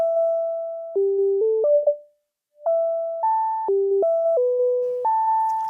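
Dry Eurorack synthesizer oscillator plays a sequence of steady, pure beeping tones, stepping between pitches in a simple melodic pattern with one short gap, clear and close with no effects.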